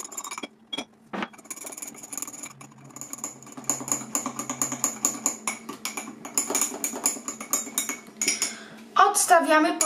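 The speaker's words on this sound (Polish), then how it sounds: "I rozmieszamy tutaj naszą kawę." A spoon stirs coffee made with about 100 ml of boiling water in a cup, clinking quickly and rhythmically against the sides. The clinks are close, build steadily, and get louder and brighter at the end.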